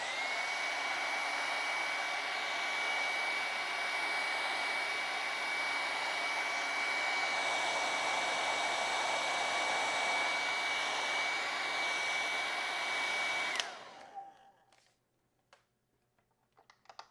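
A hair dryer blows steadily on acrylic paint for about fourteen seconds, a loud continuous whir that cuts off abruptly, followed by quiet with a few faint handling knocks.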